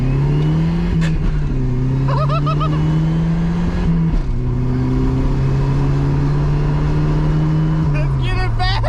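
A Ford V8 with F303 camshafts and three-bar GT40 iron cylinder heads, about 320 horsepower, revs steadily and loud with a lumpy drone whose pitch steps up and down between throttle blips, while voices talk over it.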